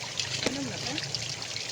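Water trickles steadily from an outdoor water system, a continuous soft splashing wash with a brief tonal voice sound rising over it near the start.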